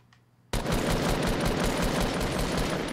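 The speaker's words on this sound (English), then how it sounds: "Why could none of those shots hit?" Gunfire in Fortnite starts abruptly after a brief quiet moment, then runs as a loud, rapid stream of shots with an even rhythm to the end.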